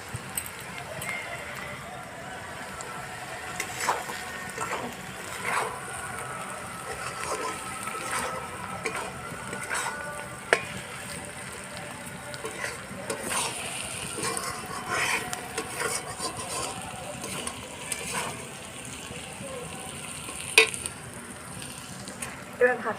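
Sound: vegetables and egg frying in pan

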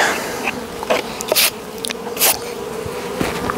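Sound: honey bees buzzing during hive work

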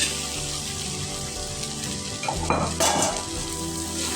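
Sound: stirring rice with tomato puree in a pan

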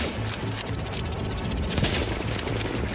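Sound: gunfire in the video game The Division

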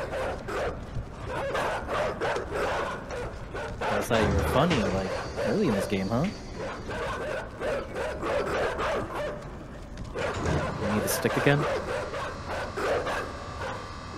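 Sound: dogs barking in the video game Inside

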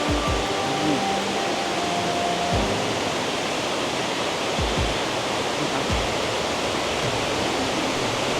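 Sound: Sai Yok Noi waterfall, high water

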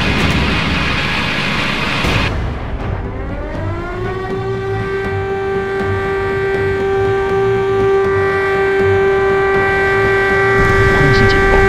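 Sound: air raid siren

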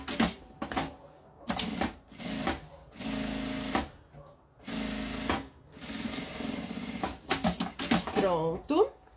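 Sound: sewing a seam along the edge of a makeup bag

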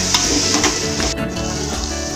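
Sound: mint and coriander sautéing in a pan with mutton for biryani

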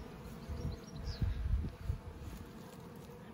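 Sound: honeybee swarm buzzing

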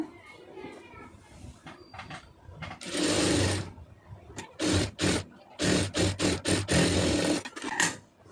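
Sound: sewing machine stitching a puff sleeve

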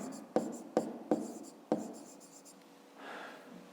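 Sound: writing on paper

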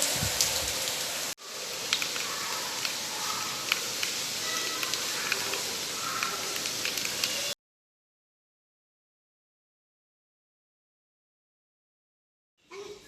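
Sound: heavy rain falling

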